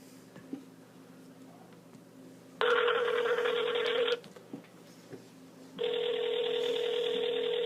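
A telephone rings for an outgoing call, two long electronic ringback bursts separated by a pause, clear and steady over a quiet room with faint background hum.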